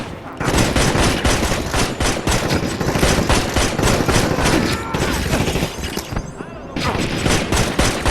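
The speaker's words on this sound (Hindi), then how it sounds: "मैं सीधे से गोलियों से मार देता हूँ।" Rapid bursts of automatic gunfire from the video game Gangster Vegas, loud and nearly continuous for several seconds with only brief breaks, layered volleys like a firefight.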